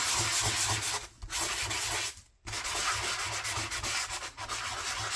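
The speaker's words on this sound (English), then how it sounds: "if you're looking for a sanding block, I got this on Walmart" Steady, scratchy rubbing of a sanding block over a surface, close and loud, with two brief pauses between strokes.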